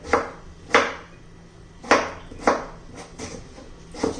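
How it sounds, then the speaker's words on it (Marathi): A peeled potato being finely chopped with a knife on a board, about seven fairly close, sharp chops spaced unevenly and heard alone with no talk. "आता मी बटाटा बारीक चिरून घेते."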